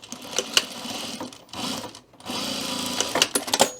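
A sewing machine stitches a quarter-inch seam on lining fabric for a knitting needle keeper, running in loud, close rapid bursts with short pauses between runs.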